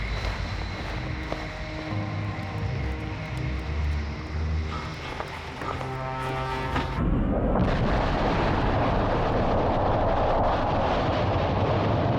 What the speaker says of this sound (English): Pentagon inspectors monitor the maiden flight of the Jupiter C